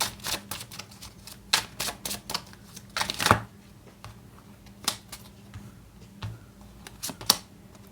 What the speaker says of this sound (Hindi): हम और कुछ कार्ड्स लेते हैं।